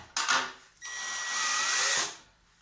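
A power drill bores holes through a thin metal piece using ordinary bits, one short burst followed by a longer steady whine that winds down, close and loud with no talking.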